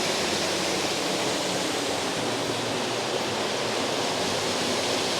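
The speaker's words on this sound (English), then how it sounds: "do we know what this waterfall's called?" Loud, steady roar of a waterfall in County Donegal on Ireland's Wild Atlantic Way, a broad continuous rush of falling water heard close up, with no talking.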